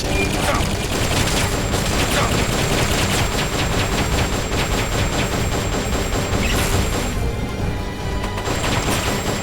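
Sustained rapid gunfire rattles through a firefight in Metal Gear Solid: Peace Walker, dense bursts of shots hammering continuously and loudly with barely a pause.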